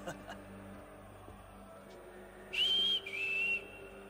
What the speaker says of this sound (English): I heard a whistle.